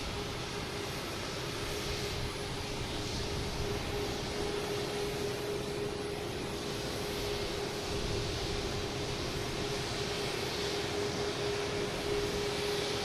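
Delta airliner inbound from LAX at Boston Logan Airport: a continuous, even jet engine rumble with a faint steady tone, heard from a distance with no voices.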